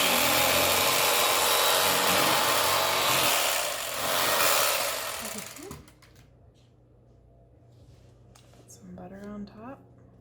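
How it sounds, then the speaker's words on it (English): An electric knife saws through a loaf of homemade bread with a loud, continuous buzzing rasp that cuts off midway, followed by quieter kitchen handling and faint sounds. "an electric knife makes slicing a lot smoother"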